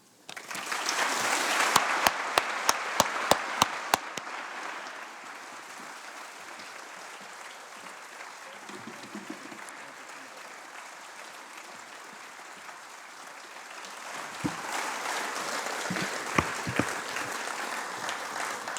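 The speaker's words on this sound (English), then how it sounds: "Please join me in applause as I invite His Excellency, the Right Honourable David Johnston, to the podium." An audience applauds to welcome Governor General David Johnston to the podium at a foundation stakeholders' gathering. A burst of loud clapping with a few sharp claps dies down to a softer patter, then swells again near the end.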